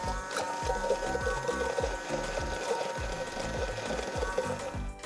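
A kitchen blender blitzes egg yolks and salt for hollandaise, giving a steady, loud, continuous whirring drone with a rhythmic churning pulse that holds for the whole stretch.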